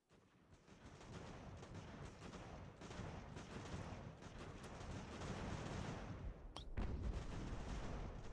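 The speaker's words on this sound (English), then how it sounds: "Hopefully the cannon's still firing at him." Cannon and volley fire in an American Revolution strategy video game, a dense, continuous rumble of booming shots that swells slightly louder toward the end, with a sharp, loud report near the close.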